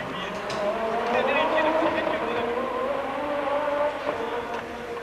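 An Audi Quattro S1 race car from the 1988 Race of Champions roars around the track. The engine note is loud, rising and falling, with a commentator talking over it.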